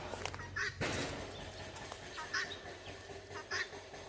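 Guinea fowl give repeated harsh, rattling calls in short bursts, moderately close, over a noisy outdoor background.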